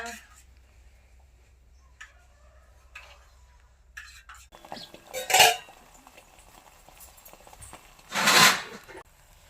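An omelette is being made in a pan for children. The scene is mostly quiet, with two short, sharp bursts of metal utensil and pan clatter close by, a few seconds apart.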